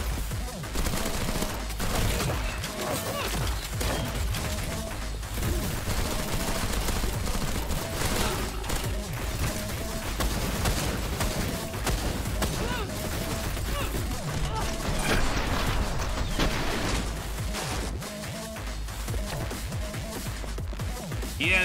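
Submachine guns fire in the shooter game SPRAWL: repeated rapid bursts and scattered shots crackle through the whole stretch, mixed with game effects, while a person talks intermittently over the action.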